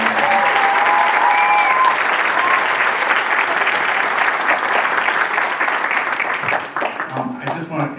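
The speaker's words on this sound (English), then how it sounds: "So round of applause for Lynn." An audience at a middle and high school jazz night claps loudly and continuously for several seconds, then the applause thins out and fades near the end.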